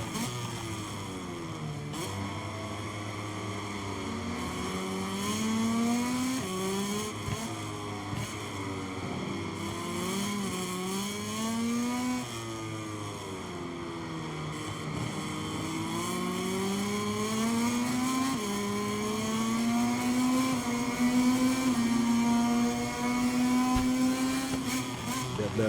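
A racing motorcycle engine in the MotoGP 23 video game holds a steady, loud whine that rises and falls with throttle and gear changes through corners, with faint talk underneath at times.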